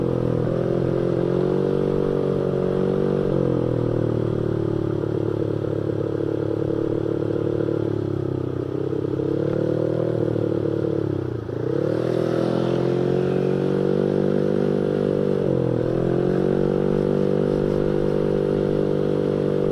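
A Honda Vario scooter engine drones steadily at cruising speed, its pitch dipping and rising briefly as the throttle eases off and picks back up, with some rattling.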